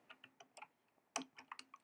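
Someone types on a computer keyboard, with a dozen or so light, quiet key clicks coming in an irregular rhythm, close by and without speech.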